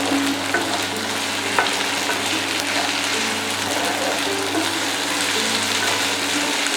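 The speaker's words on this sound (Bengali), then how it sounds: "নুনটা দেওয়ার পর খুব ভালো করে কষাতে থাকুন।" Tomatoes with salt sauté in a pan for a Bengali-style egg curry, a continuous even sizzle and bubbling hiss with soft stirring scrapes underneath, and no voices.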